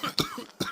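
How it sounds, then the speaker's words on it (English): Three quick, close coughs in a row, short and dry, with brief pauses between them. "Cough, cough, cough."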